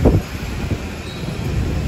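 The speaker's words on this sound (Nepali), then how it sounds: "हावा चलिरहेछ" Wind buffets the microphone outdoors on a hillside walk up to the White Monastery (Seto Gumba) in Nepal, giving low rumbling gusts that are strongest at the start and then settle into a steady blustery roar.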